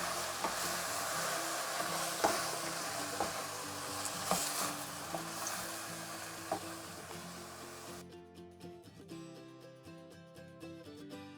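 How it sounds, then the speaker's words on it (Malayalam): Vegetables being stirred in a hot frying pan, a steady sizzle broken by repeated scraping knocks of the spoon; the sizzle cuts off near the end, leaving a faint tonal hum. "നന്നായിട്ട് ഇളക്കി ഒന്ന് യോജിപ്പിക്കാം."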